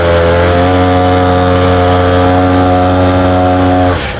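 A motorcycle fitted with a brushcutter engine rides along, its small two-stroke motor buzzing loud, close and high-revving at a steady pitch for about four seconds before easing off.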